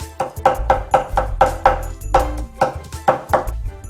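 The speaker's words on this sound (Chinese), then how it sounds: "我们接下来就开始剁这个鱼肉" A knife chops rapidly through fish meat of a Chinese tapertail anchovy for wonton filling, a quick run of sharp, close, loud thuds on a cutting board with a steady rhythm.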